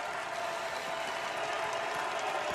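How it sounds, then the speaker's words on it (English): Arena crowd at the United Center applauding a returning hockey player, a dense and steady wash of clapping and cheering that fills the whole stretch evenly. "as the crowd acknowledges the return of Duncan Keith"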